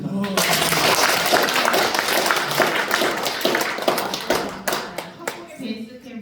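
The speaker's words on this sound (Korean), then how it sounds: "뜨거운 박수로 감사의 박수를 부탁드리겠습니다" An audience at a business seminar breaks into dense, sustained applause, many hands clapping loudly together for several seconds before tapering off into scattered claps and murmuring voices.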